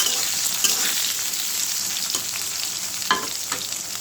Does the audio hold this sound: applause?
no